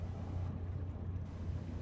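A 48-foot Sea Ray's boat engine idling steadily with a low, continuous drone and wash of exhaust water, faint and unbroken throughout.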